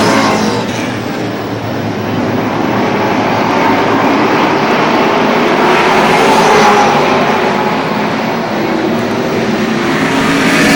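Pro stock race cars roar off the green flag at Lee Speedway in New Hampshire, a dense, steady wall of engine noise that swells slightly as the pack passes, loud and continuous.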